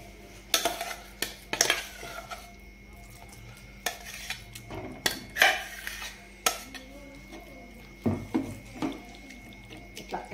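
A metal spoon stirring a ginger-paste mixture in a cooking pot, with a dozen or so sharp clinks and scrapes at an irregular pace over a faint background sizzle.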